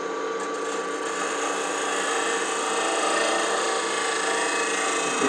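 A spear point scraper shaves the surface of a turned wooden goblet spinning on a lathe, giving a steady, continuous broadband scraping hiss over the hum of the machine, close and even throughout with no talking.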